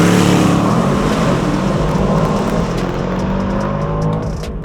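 Aston Martin DBX707 SUV launching hard from a standstill in Sport Plus, a loud sustained engine roar close by with a dense steady rumble that eases slightly toward the end, no talking over it.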